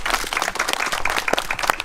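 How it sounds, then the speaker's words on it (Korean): Gathered mourners clap together at an outdoor memorial ceremony, a short burst of dense, steady applause from many hands at moderate distance, with no talk over it. "다시 한번 큰 박수 한번"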